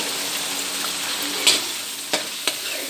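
Chicken liver fries in a pan with browned onions, giving a steady close sizzle under a few sharp scrapes of a spoon as it is stirred.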